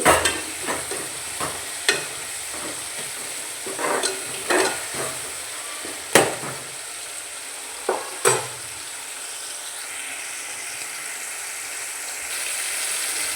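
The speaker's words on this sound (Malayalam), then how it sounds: "ഉള്ളിയും തക്കാളി ഇതൊക്കെ ഒന്ന് വാടി വരട്ടെ." Onions and tomatoes, already salted, softening in a pan. A steady low sizzle runs throughout, broken by repeated sharp spoon clicks and scrapes against the pan, close up, with no talking.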